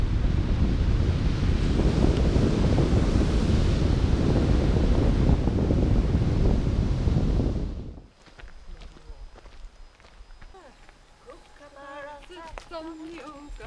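Strong wind and ocean surf at a beachfront lodging on New Zealand's West Coast, a loud steady roar for about eight seconds before dropping to a quieter background where a person talks.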